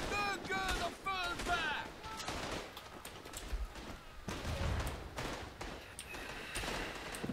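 Gunfire in the video game Tannenberg: a busy, distant-sounding battlefield of scattered shots and thumps, with a voice talking over the first part and a short tonal game cue near the start.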